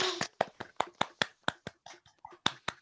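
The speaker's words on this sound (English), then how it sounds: "if everybody wants to unmute and clap for Josh" Scattered hand claps from a small group of participants unmuted on a video call, about a dozen sharp separate claps spread irregularly over three seconds, fairly close and clear with no talking.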